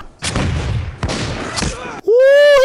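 Gunfire from the 2000 war film The Patriot: two loud bursts of broadband shots with booming low end, each followed by a ringing decay, then a sudden tonal whine or shout at the end.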